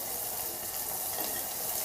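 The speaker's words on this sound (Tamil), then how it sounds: "வெங்காயம் வதங்கிக்குது." Onion and curry leaves frying in a clay pot, giving a steady, close, broadband sizzle that runs unbroken through the moment with no talking.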